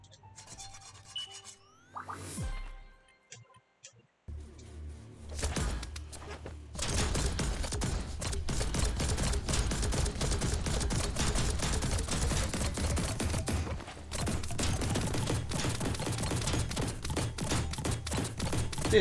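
A gun in Biomutant fires in a rapid, sustained burst of dense crackling shots after a few scattered game sounds, loud and continuous to the end, with no talk.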